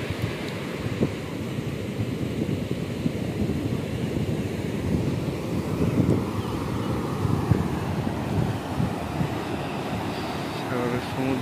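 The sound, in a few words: sea waves crashing on the shore with wind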